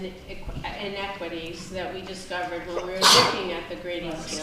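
A single sharp sneeze bursts out in the middle of a school board meeting, loud and close, cutting across a man's ongoing speech.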